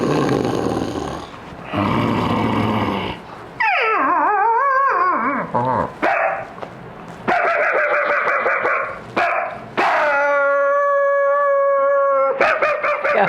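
A voice imitates a dog, moving through loud growling barks, a wavering, swooping howl and sustained whining yelps, close and continuous, with a few short pauses between bursts.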